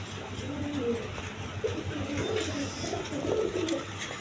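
High-flying Giribaz pigeons coo in soft, repeated low calls, several overlapping bursts at close range over a faint background hum, with no voices.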